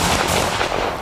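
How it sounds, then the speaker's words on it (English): Rapid gunshot sound effects played as a segment stinger, a dense loud burst of gunfire lasting about a second with no voices over it. "a lot of gunshots"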